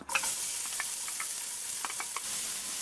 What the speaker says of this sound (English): To your pot, just add a little bit of oil, and you're gonna add the onion in